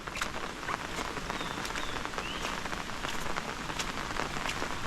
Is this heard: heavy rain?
yes